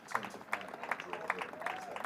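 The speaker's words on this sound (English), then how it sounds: "There's the applause for the landmark." A cricket crowd applauds a batsman reaching 150 in a county match between Derbyshire and Glamorgan, scattered distant clapping heard faintly beneath a commentator's talk.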